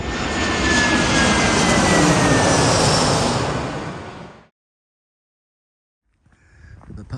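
A jet airliner roars loudly overhead beneath the Gatwick Airport flight path, a broad sustained rush lasting about four seconds before cutting off abruptly, followed by a brief quieter rustle near the end.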